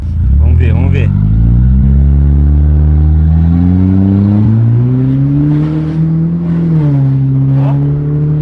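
An Audi with a straight-pipe exhaust roars loudly as it accelerates through climbing engine notes and gear changes, with crackles between them. A person talks over the engine at times.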